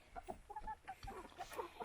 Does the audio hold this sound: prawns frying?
no